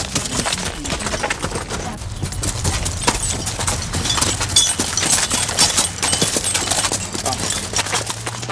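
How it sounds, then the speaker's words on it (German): Three draft horses are led from the farm to a nearby rye field at harvest, their hooves clip-clopping in a steady, close walking rhythm while a voice talks over them. "Die Zugpferde Beatrice, Manette und Fiesta werden am Morgen vom Hof zum nahegelegenen Feld geführt"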